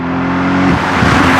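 A Novitec-exhausted Lamborghini Urus SE V8 revs loudly and close up, its deep engine note rising and swelling steadily across a short burst with no talking.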